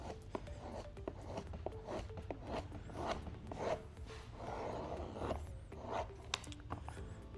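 Rubbery scraping and rasping of a squeegee pressing XPel protective film onto a vehicle panel, a series of short close strokes and rubs with faint handling noises, no talk.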